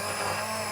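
An immersion blender runs in a pot of Portuguese vegetable soup, a loud, steady motor whir with a constant high whine that holds throughout, with no talking.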